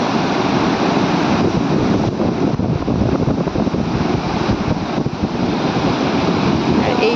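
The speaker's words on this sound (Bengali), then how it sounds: "আর এই জায়গাটা এত ভয়ঙ্কর ভয়ঙ্কর ঢেউ উঠছে।" Big waves roar nonstop at close range, a dense, loud wash of water with gusty wind buffeting the microphone.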